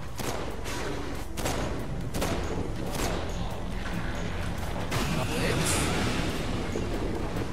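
Gunfire in the open-world action game Saints Row IV during co-op play, with repeated sharp shots and bursts over a dense, loud background of game noise and music, while players talk.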